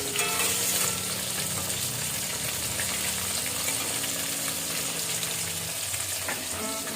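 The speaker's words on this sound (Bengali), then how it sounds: "োনু বাজারে গেছিল, গিয়ে আবার মাছ নিয়ে আসলো, সেগুলোই ভাজছি।" Fish fries in a pan with a loud, steady, close sizzle and crackle, and occasional stirring scrapes are heard through the constant hiss.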